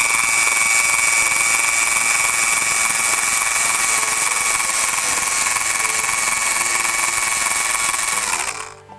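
A grinder dulls the point of a safety pin with a loud, steady, high-pitched whine close by that cuts off and winds down at the end.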